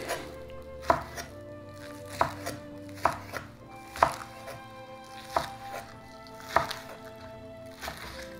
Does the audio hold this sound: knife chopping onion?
yes